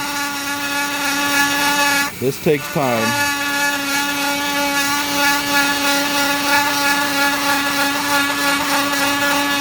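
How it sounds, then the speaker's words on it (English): A high-pitched Dremel rotary tool whines steadily as it grinds a trough into hard purpleheart wood, briefly interrupted by a short spoken remark near the start. "drill a bit of a trough here and drill through."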